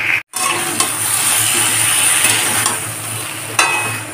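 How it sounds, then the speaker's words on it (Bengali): Potato, papaya and green banana pieces fry in a pan with salt, turmeric, cumin and coriander powder, giving a loud, steady close sizzle with a few stirring knocks and no talking. "এখন ভালো করে কষে নেব।"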